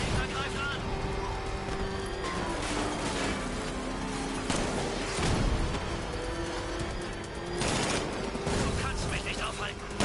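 Tank cannons firing in Batman: Arkham Knight, heavy booming bursts and explosive blasts over dense game music and engine rumble, with a loud hit near the middle and another later on.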